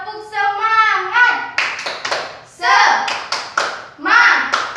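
A school class claps together in a quick patterned rhythm, bursts of clapping alternating with children's voices chanting along.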